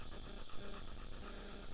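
A dog pants outdoors on a rainy day, with quick, soft breaths close by, partly buried under steady, broad background noise.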